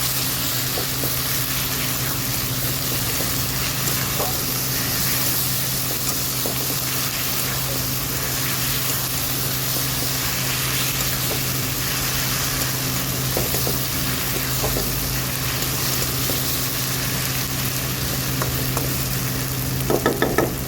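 Ginger-garlic paste fries in a pan for a vegetarian paneer dish, giving a continuous, even sizzling hiss close by. Occasional faint stirring scrapes sit over a low steady kitchen hum.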